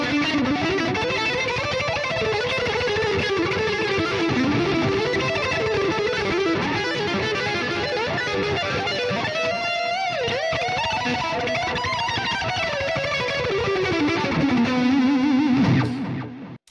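Heavily distorted electric guitar run through the MLC Sub-Zero 100 amp-sim plugin, a continuous, loud, dense riffing passage with chugging rhythm and lead lines, playing alone with no talking until it cuts off at the end.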